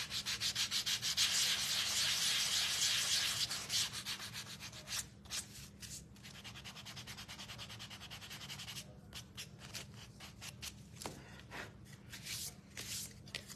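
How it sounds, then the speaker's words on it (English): Sandpaper rubs steadily against a small wooden craft gnome, a loud dense scratchy stroking at first that eases into lighter, choppier rubbing strokes. "And then let's sand it."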